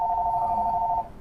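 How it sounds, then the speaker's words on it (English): A telephone rings with one steady electronic tone lasting about a second, then cuts off, heard from the background of a quiet room with no talking. "Please excuse the phone ringing in the background."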